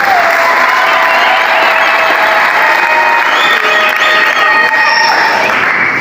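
A church congregation at a Pentecost Sunday service applauds in praise, a loud, dense and sustained wall of clapping from the whole crowd with faint cheering mixed in.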